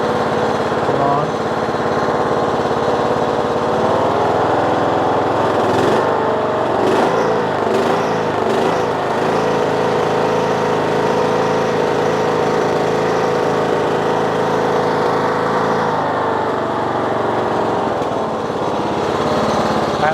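A Kohler Courage engine on a Troy Bilt Bronco riding mower idles steadily and loudly at a low, even rumble throughout, close up and with no talk over it.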